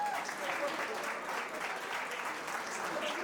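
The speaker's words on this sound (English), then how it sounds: "Can I just get a round of applause for our MC?" Steady applause from an iftar audience honoring the MC at a Turkish American Center Ramadan dinner, dense and continuous from start to finish, with faint voices mixed into the clapping.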